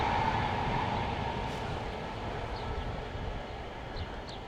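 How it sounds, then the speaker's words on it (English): A steady low rumble of a passing train fills the scene, constant and fairly close, with faint high squeaks near the end. "But there's the train."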